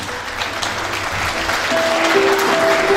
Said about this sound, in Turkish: Haydi kuvvetli alkışlar.